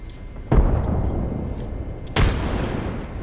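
Two heavy booms from frag grenade explosions in Apex Legends, the first at half a second and the second near two seconds, each leaving a rumbling tail under ongoing battle noise.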